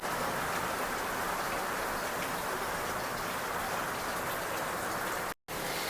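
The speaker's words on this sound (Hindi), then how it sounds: "बाहर हो रही है बहुत तेज बारिश" Heavy rain pouring outside in the mountains of Arunachal Pradesh, a dense, loud, unbroken hiss of falling water that cuts out abruptly for a split second near the end, with no one speaking.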